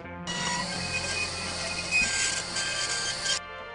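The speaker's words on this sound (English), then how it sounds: "Then I tried to drill through it." A power drill whines steadily for about three seconds, loud and close, with a grinding edge as the bit bites into ultra-high-strength boron steel from a Ford Fiesta.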